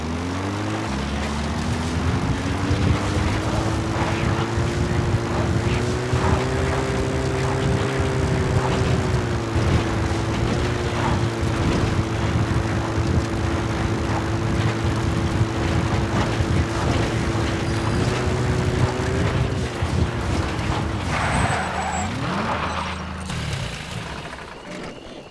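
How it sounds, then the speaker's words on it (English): A support helicopter arriving in a stealth action video game, a loud continuous rotor and engine drone with a sustained pitched whine that holds steady, then dips and fades over the last few seconds. "The support helicopter requested."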